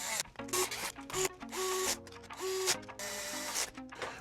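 Six screws going into a Disneyland Mickey bubble blower toy, heard as close, repeated whirring mechanical bursts with shifting pitch, starting and stopping every second or so.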